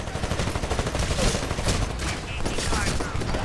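Rapid, sustained gunfire fills a Titanfall match, with bursts of automatic weapons crackling close and loud over a constant background din, and a voice faintly under the shooting.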